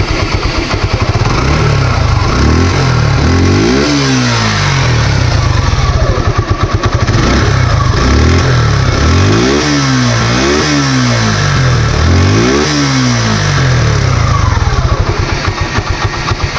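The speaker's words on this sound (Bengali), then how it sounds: "তো গাড়িটা স্টার্ট করে সাউন্ড কন্ডিশন দেখাবো" Used Suzuki Gixxer Monotone motorcycle in Faridpur starts up, then idles and is revved several times, each throttle blip rising and falling in pitch, loud and close with no talk.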